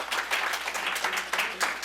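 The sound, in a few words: audience applause for the county clerk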